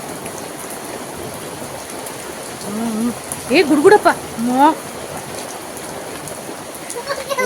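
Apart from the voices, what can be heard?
heavy rain with wind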